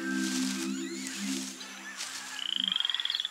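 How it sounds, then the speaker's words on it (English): Poison dart frogs calling in a rainforest, layered tonal croaks and chirps up close, ending in a rapid trilling pulse series over steady ambient insect and forest noise. "There's tons of poison dart frogs!"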